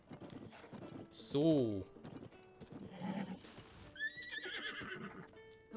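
The golden horse of Zelda in The Legend of Zelda: Tears of the Kingdom gives a loud whinny amid clip-clopping hooves, with game music and someone speaking briefly over it.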